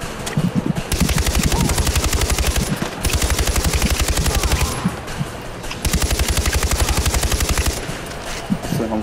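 Rapid automatic gunfire in the Far Cry 4 video game rattles in long, loud bursts, broken by a few short pauses.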